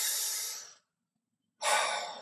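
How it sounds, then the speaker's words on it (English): A single deep breath in through the nose, close and clear, followed by a moment of silence and then another inhalation, taken while sitting upright. "If you take another deep breath in here,"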